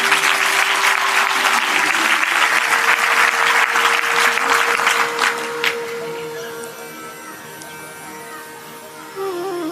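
A crowd at a Hindu devotional satsang discourse claps densely for about five seconds. The applause then dies away into a quieter hall, where a voice can faintly be heard.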